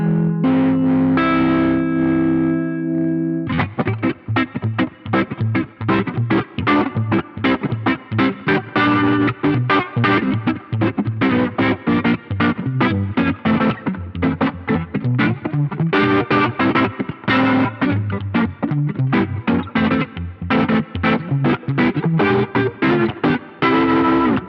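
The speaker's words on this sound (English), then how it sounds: "a speaker spinning in it to create this whirly kind of sound" An electric guitar plays chords and riffs through a Wampler Terraform's whirling rotary-speaker effect, giving a warbling, swirling tone, with a sustained chord at the start.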